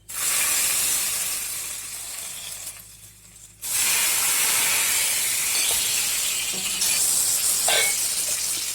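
A hot ghee tempering with curry leaves is poured into tomato rasam, sizzling and hissing loudly after a brief quieter pause, a steady crackling sizzle that continues to the end.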